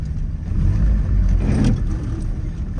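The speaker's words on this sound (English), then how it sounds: "the car is going to go into our workshop" Citroën Traction Avant Light 15 vintage car driving into a workshop, its engine a steady close mid-pitched rumble that swells briefly as it moves in, then settles back.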